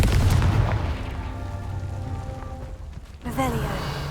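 A Confringo fire-blast spell from the Hogwarts Legacy game, heard as a loud booming burst that rumbles and decays, followed by a second sharp impact near the end.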